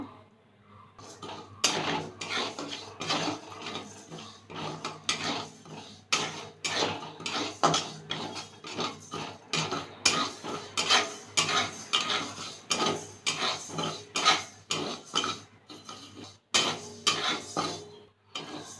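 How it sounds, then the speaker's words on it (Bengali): Half a cup of mung dal is dry-roasted in a hot wok, with a steady series of rattling, scraping stirs against the metal. "কড়াই গরম করে নিয়ে হাফ কাপ মুগ ডাল ভেজে নেব"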